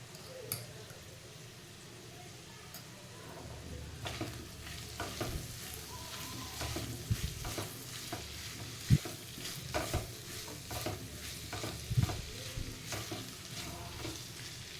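Potato sabji stirred and fried in a pan, a continuous soft sizzle with repeated scraping and clicking strokes of a spoon against the pan, close and steady, growing more active after the first few seconds.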